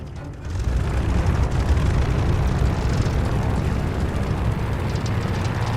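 A WWII aircraft engine in Call of Duty Vanguard, at Midway in 1942, coughs into life and settles into a loud, broad, steady rumble that fills the space, with no voices over it.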